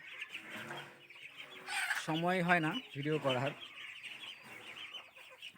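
Hens cluck in two short bursts of nasal calls, one nesting bird close by, while someone talks before and after.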